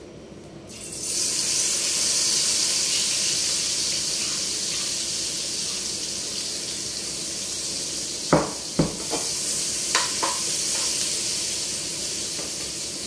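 Crushed garlic sautéing in a pan, a steady broad hiss that rises quickly at the start and holds, with a few sharp clinks of a utensil near the end.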